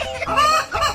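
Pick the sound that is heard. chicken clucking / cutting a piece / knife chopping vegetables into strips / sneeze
chicken clucking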